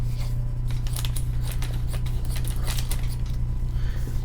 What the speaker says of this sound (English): I'll use my scissors to open these.